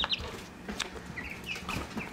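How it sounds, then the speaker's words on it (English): Larger and small chickens cluck and chirp softly in a quiet barnyard, several birds calling at scattered moments with faint background rustling. "What we're worried about are the bigger chickens pecking the little chickens"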